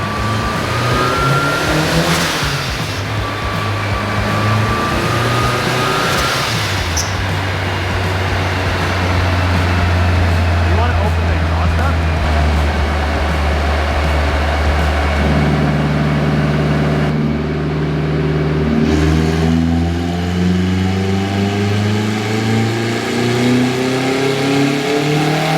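Turbo K20 engine in a Honda Civic, still cold and warming up, drones at a steady high idle, then drops and swings through several rising revs, loud and close throughout with no talking.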